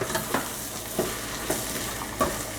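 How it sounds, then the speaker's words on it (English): Onions and garlic sautéing in a pan for onion pulao, a steady bright sizzle broken by several distinct scraping stirs at roughly half-second intervals, close and fairly loud. "I have added my onions, so let's saute for a good time and let's mix it"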